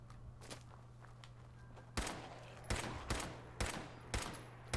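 Rifle gunfire in Fallout 4 aimed at a feral ghoul: five or six sharp, loud shots crack out at uneven intervals over a steady low game hum, with fainter footstep-like clicks before the first shot.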